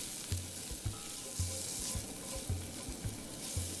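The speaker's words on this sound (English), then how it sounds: "mix and saute until the onion is translucent" Onion and spices sauté in a pot for a vegan chick'n tortilla soup. A continuous sizzle runs under regular scraping stirs of a spoon, close and alone, with no talk.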